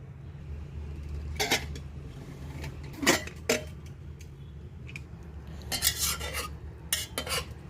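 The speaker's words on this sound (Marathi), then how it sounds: "ह्या प्लेटमध्ये आपण भाजी आता काढून घेणार आहोत" Several sharp metallic scrapes and clinks of a spoon against a pressure cooker pot and plate as a cooked stalk vegetable dish is served, spaced irregularly over a low steady hum.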